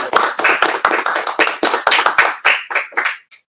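Applause from participants in an online board meeting honoring salutatorians: a handful of close, unmuted claps in a quick, uneven patter, separate hand strikes audible, tapering off after about three seconds.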